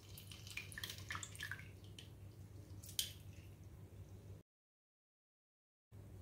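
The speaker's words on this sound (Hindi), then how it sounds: "नींबू मेकर से निचोड़ देते हैं।" Half a lemon is squeezed with a hand lemon squeezer for a watermelon drink, giving faint wet squishing and dripping for a few seconds, then a short silent gap before quiet room tone returns.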